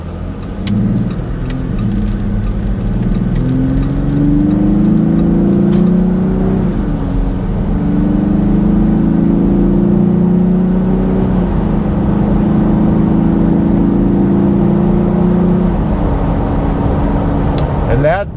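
A Jeep Gladiator pickup truck with a cold air intake accelerates up through the gears, rising then dropping in pitch several times, with an intake whoosh under steady road noise.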